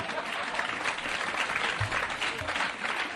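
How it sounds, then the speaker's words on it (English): A round of applause on a podcast episode: a soft, continuous patter of clapping that holds at a fairly even, moderate level throughout, with no distinct voices on top. "I'll take that round of applause, thank you."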